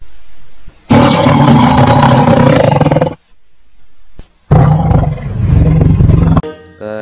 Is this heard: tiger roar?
yes